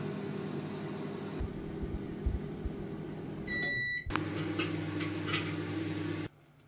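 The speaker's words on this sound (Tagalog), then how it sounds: "Dito sa oven. Microwave oven, okay?" A steady mechanical hum of a running microwave oven, broken by a brief pause and a few high beeps midway, then cutting off near the end.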